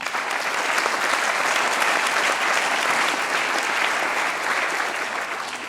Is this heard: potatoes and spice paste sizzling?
no